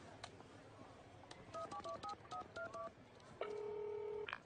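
A telephone number is dialed on a borrowed phone: a quick series of about ten beeping keypad tones, then a steady ringing tone, faint against light indoor background noise.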